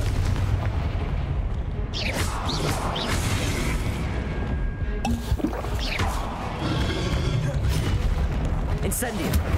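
Explosive Confringo spell blasts from Hogwarts Legacy combat, a few booming bursts with crackling debris amid a busy battle, fairly loud, while a voice calls out in the background.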